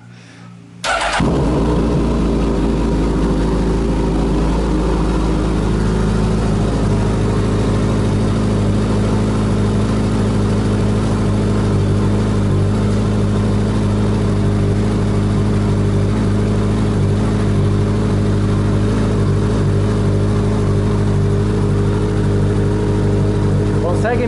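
A Suzuki GSX-S1000 motorcycle engine starts and then idles unevenly, its low throbbing steady but wavering in speed throughout, loud and close with no talk over it.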